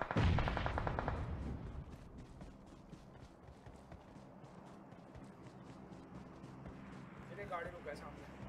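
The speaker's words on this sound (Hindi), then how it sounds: "यहाँ पे ऊपर से फायरिंग आई ना।" Gunfire in an intense multiplayer battle game, loud rapid bursts of shots at the start and then sparse distant cracks behind a speaking player.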